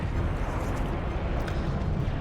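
Explosions rumble through a large EVE Online fleet battle: a dense, continuous roar of overlapping blasts, loud and unbroken, with no voices.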